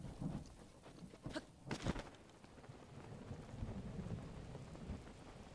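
Thunder and steady rain from a storm in The Legend of Zelda: Breath of the Wild, with two loud rolling cracks early on followed by continuous rainfall pattering at moderate level.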